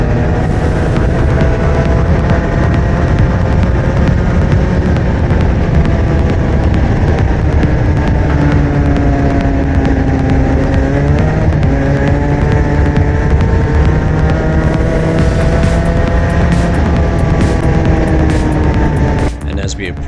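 A superkart engine at Queensland Raceway screams loud and close under hard acceleration, its high tone climbing, dipping briefly and rising again over a continuous roar, with a voice talking over it.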